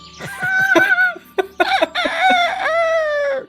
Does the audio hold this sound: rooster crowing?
yes